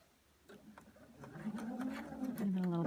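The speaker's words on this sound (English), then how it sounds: "we sew along the sewing line, making sure that the two edges of the trim are close together" A sewing machine sews trim onto a scarf along the sewing line, starting faint and growing louder as it runs. The machine sounds close, with a voice speaking over the stitching.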